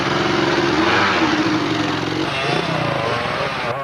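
A Kawasaki enduro motorcycle engine drones steadily close by through a forest stage of the 1991 Welsh two-day enduro, a continuous loud buzzing with slight shifts in pitch.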